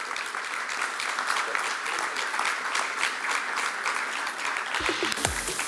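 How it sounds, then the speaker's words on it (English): An audience applauds steadily and continuously for a guest at a business talk on organizational transformation, the dense clapping holding an even level throughout, with a brief low thump near the end. "Please give him a big round of applause."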